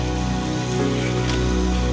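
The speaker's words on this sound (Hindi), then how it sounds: "देखो गाइस आज थोड़ी सी बारिश हुई है" Steady rain falling in Delhi, a continuous wash of patter across the whole stretch with no talking.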